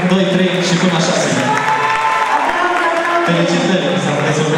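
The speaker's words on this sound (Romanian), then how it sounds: "Haideți să aplaudăm perechea 1, 2, 3 și până la 6." Audience applause for contestant couples at a Dragobete celebration show in Petrila, a dense steady clatter of many hands lasting throughout, blended with music and voices.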